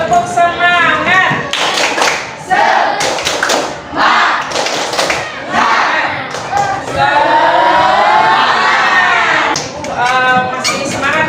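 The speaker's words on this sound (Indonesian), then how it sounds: "kita tepuk semangat dulu." A classroom of students performs a rhythmic clapping chant, sharp claps in patterned bursts mixed with children's chanting voices, loud and close throughout.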